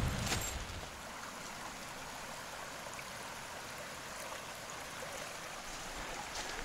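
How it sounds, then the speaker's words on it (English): Smith Creek runs at a normal level beside a hiking trail, giving a steady, even rush of flowing water with no talk and a slightly louder start. "creek is running fairly normal"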